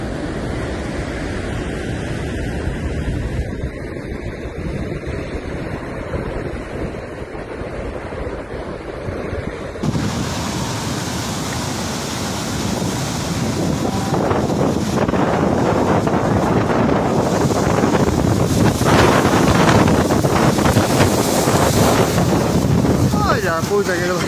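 Strong cyclone wind gusts buffet the microphone on the Argentine beach near La Hélice, with waves surging steadily beneath, building louder and rougher in the second half.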